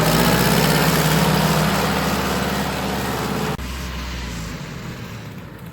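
A 1950 Ford 8N tractor engine idles steadily and loudly nearby, a continuous low rumble that shifts slightly partway through, with no talking.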